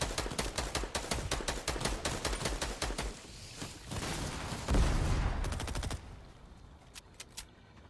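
Rapid video game gunfire: dense bursts of sharp, loud shots fired in quick succession, broken by short pauses, with a scattered few final shots trailing off near the end.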